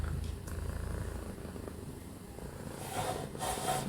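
Close, continuous cat purring, a low rhythmic rumble that carries on steadily with slight breathy swells, and no talking.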